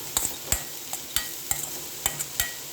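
Cauliflower cooks in a pan with curry leaves added, giving sharp, irregular stirring clinks and scrapes over a faint sizzle, close and fairly quiet with no talking.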